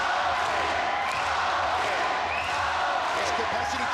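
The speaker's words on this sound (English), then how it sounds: "His capacity crowd rallying behind the star." A capacity arena crowd at an MMA bout roars steadily for fighter Shinya Aoki, a dense continuous wash of cheering and shouting with a commentator talking over it.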